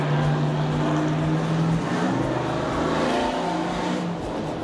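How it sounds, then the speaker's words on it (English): Cars rev their engines along a riverside street on the Riverwalk, a loud, continuous roar of motors with rising and falling pitch and no talk over it. "These cars, because I'm right here on the Riverwalk, they just want to like make noise."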